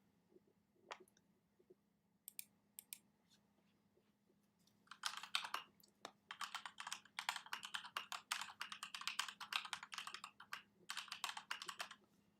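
Computer keyboard typing, close and fairly quiet: a few isolated key taps at first, then a sustained burst of rapid keystrokes over a low steady hum.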